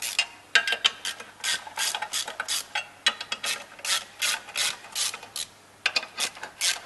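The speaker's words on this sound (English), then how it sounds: "All the bolts are removed evenly so as not to distort the clutch pressure plate." A ratchet undoes the bolts of a car clutch pressure plate, clicking in rapid bursts of repeated strokes with brief pauses, close and clear with no talk.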